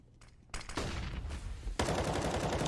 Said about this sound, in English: Neo takes out Dupree in the connector